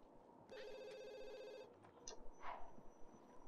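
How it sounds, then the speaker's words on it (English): A telephone rings in a life-simulation game, a steady electronic bell trill lasting about a second, standing alone over quiet background game sounds, followed by brief soft interface chirps. "Is someone available to answer the phone?"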